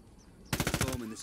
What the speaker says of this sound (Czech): Já slyším nějakou střelbu někde.